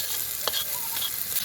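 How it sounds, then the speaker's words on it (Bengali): Potatoes, cauliflower and peas frying in a pan, giving a steady sizzle with a few brief scraping stirs, at moderate level and close by. "আমি ভালো করে আলু ফুলকপিটাকে কষিয়ে নেব। দিচ্ছি মটরশুঁটি।"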